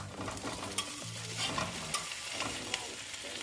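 Diced Italian tomatoes and their juice going into a pot of braised beef and bean stew, a soft sizzling with faint liquid sloshing and a few light clinks, quiet and close, with no voices.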